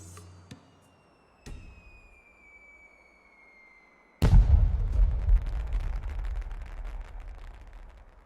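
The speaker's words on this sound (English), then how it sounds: "The fireworks are only briefly visible in the bright light of day." Fireworks in the card game Voice of Cards: a faint whistling rise, then a sudden loud booming burst with a long crackling, rumbling tail, preceded by a few soft pops.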